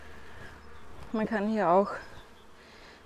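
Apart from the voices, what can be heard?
honeybees buzzing in a Bienenkiste beehive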